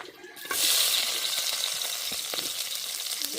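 Steady crackling sizzle of onions, green chilies and curry leaves frying in hot oil, starting abruptly after a brief quiet moment and continuing evenly with occasional clinks.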